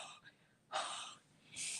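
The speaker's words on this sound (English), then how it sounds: "And I'm going to give it a good huff with my breath." Breath is huffed onto a rubber stamp in a card-making setup, heard as a couple of soft, close breathy puffs with quiet gaps between them.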